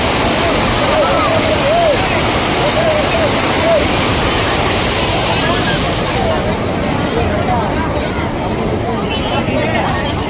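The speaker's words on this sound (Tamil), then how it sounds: "ஆக்சுவலாக ரொம்ப வேகமாக தேரிக்கு தண்ணி வரும்" Loud, steady rush of water flowing fast from a lake outlet fills the scene, with distant voices and shouts of people bathing faintly mixed in.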